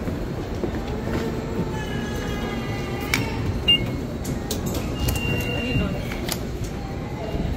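A metro train in McGill Station, Montreal, rumbles steadily through the underground platform with metallic wheel squeals and clacks, while people's voices are faintly audible over the constant rolling noise.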